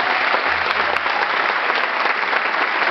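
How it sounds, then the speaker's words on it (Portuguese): Dense, loud applause from a large crowd honors a man at the Troféu Castro Alves awards ceremony in Bahia, a continuous roar of clapping sustained evenly for several seconds. "Esse homem merece todo aplauso"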